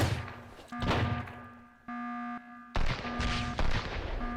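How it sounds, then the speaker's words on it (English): Several loud grenade blasts in a survival shooter game, abrupt thumping bursts at the start and around 0.7 s, 2.8 s and 3.5 s, with a steady tonal hum running underneath. "Grenades!"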